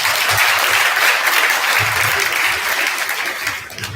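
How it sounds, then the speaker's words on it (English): A vibrant audience at a two-day national conference at SJTC Pavaratty breaks into loud, sustained applause, a thick wash of clapping that holds steady and fades slightly toward the close. "Give a applause to yourself."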